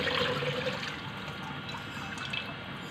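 Shrimp being rinsed clean under running water, a steady splashing flow with small drips and trickles, continuous and close for the whole stretch, with no talking.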